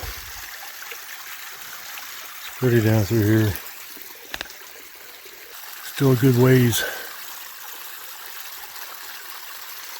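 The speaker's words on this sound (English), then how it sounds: "Found a little waterfall." A small waterfall in a mountain stream keeps up a steady, soft rushing wash under the whole scene, with someone speaking briefly over it twice.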